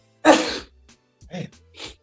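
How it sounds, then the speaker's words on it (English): A single sharp sneeze bursts out, followed by a couple of brief, faint vocal sounds. "sneezing"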